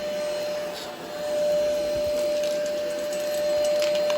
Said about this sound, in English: it's a normal stick vacuum